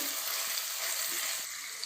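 Grated bottle gourd halwa frying in ghee, sizzling and crackling steadily with soft scraping of continuous stirring, close and fairly loud throughout, with no talking.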